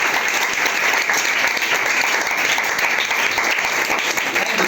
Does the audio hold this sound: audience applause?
yes